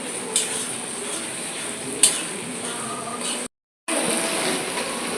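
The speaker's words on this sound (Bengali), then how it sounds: "মশলাটা দিয়ে আমরা কষাবো।" Spices being stir-fried in a pan for chicken kosha, a steady soft sizzle under a high hiss with a couple of sharp spoon-on-pan knocks, cut by a brief dropout of silence near the end.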